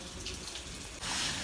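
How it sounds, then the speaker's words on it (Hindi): Water sprays onto a foam-covered car in a continuous hiss that grows louder halfway through, with no talking. "और फिर पानी छिड़क देना"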